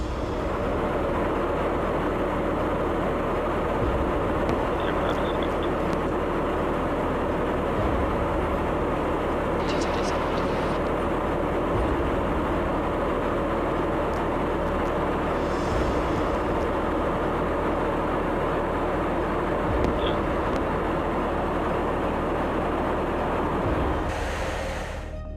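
A US Air Force KC-135 Stratotanker holding steady at refueling altitude, its engines a loud, continuous broadband roar that stays constant throughout, with no voices.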